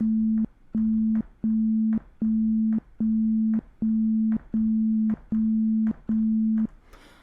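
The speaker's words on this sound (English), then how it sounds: "if I was to just play this oscillator, oscillator 1 here, and I was to change the phase" A synthesizer oscillator plays a steady low sine-like tone in nine evenly spaced pulses of about half a second, each separated by a brief gap, clean and close with no voices.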